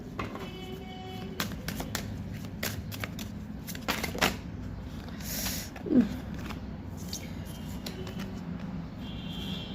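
Tarot cards being shuffled by hand, a series of close, crisp riffling and slapping sounds in irregular bursts against a quiet background.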